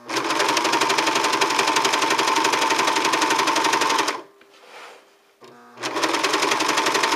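A sewing machine runs a zigzag stitch while trimming fabric, a loud rapid mechanical rattle for about four seconds, a brief pause with faint whirring, then the stitching resumes at full speed.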